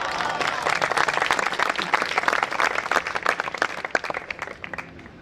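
An audience claps at a Jain religious discourse by Acharya Vidyasagar, with dense, steady applause that thins and turns more scattered toward the end.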